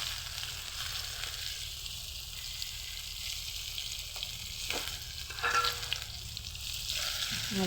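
Onion and garlic frying in a generous amount of oil with bay leaf and dried chilli for egg dal tadka, a strong steady sizzle close by with occasional stirring scrapes and bursts of crackle.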